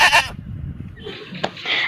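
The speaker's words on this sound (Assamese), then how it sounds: "ছাগলীয়ে" A goat bleats close by in a short, loud, wavering cry, followed by a quieter bleat and further rough animal calls.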